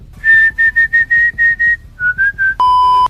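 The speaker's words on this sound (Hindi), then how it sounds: "पहले हम सुनते थे कि रात में सीटी नहीं बजानी चाहिए।" Whistling at night: a run of short, clear whistled notes in a steady rhythm, a brief pause, a few more notes, then one loud sustained pure tone to finish.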